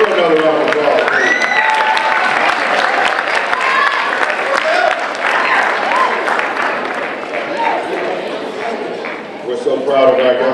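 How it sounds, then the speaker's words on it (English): Audience applause and some cheering at a high school Black History program, steady clapping that lasts throughout while a voice talks over it and the crowd noise swells again near the end. "Give her another round of applause, please."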